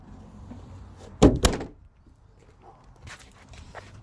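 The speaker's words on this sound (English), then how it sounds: "let's shut the trunk here for a minute" A 1978 Ford Mustang II King Cobra's trunk lid slams shut once in a sharp, close double thud, set against a quiet background with faint rustling afterward.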